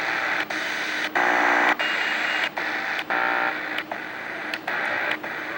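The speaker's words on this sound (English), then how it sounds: "I think that's just an interference pattern. That's hard on the ear." A RadioShack DX-395 portable radio emits harsh, buzzy interference noise in loud pulsing bursts separated by short clicks and dropouts, a grating, irregular rhythm close up, with no talk.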